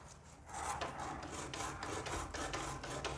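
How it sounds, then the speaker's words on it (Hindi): Sandpaper held by finger rubs against the turning ring wheel of a sewing machine, a steady close dry rasping with repeated strokes and no talk. "इस तरह से रेगमाल लगाएं उंगली से और इसको रिंग पहिए को घुमाएं।"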